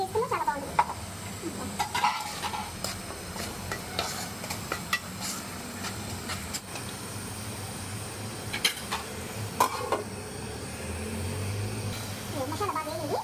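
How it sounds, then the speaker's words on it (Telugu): A masala of ginger, garlic, cloves, cardamom, coriander and dry coconut fries and is stirred in a pan, with soft sizzling and intermittent scraping clatter under someone talking. "మసాలా బాగా వేగింది."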